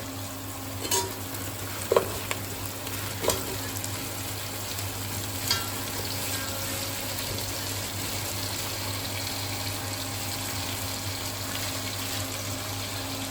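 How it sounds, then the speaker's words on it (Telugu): Cleaned goat head goes into a pot of curry on the stove, with a steady low sizzle and bubbling throughout and a few soft clunks early on, with no talking. "తలకాయని మంచిగా కడుక్కున్న శుభ్రపరిచిన దాన్ని ఇందులో అయితే వేసుకోవాలి"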